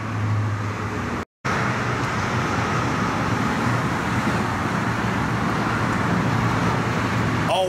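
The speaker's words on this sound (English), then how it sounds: "let's say you can hear the traffic in the background," Steady road traffic noise with cars and vehicles rumbling continuously at a moderate distance, broken by one brief dropout near the start.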